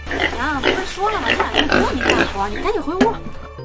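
Pigs grunt and squeal in a steady jumble as they are fed at a rural home. Someone speaks over the animal noise.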